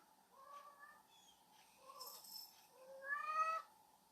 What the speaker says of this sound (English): My cats are losing their minds again.